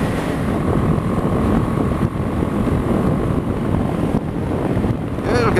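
A BMW G 310 GS motorcycle cruising at a steady 60 mph on a national speed limit road, its engine drone buried under constant loud wind buffeting with no breaks.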